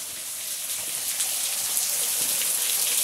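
A water wheel at an old sugarcane mill in Gaspar, Santa Catarina, as water arrives and splashes over it: a steady, dense rush and spatter like heavy rain, close and continuous throughout.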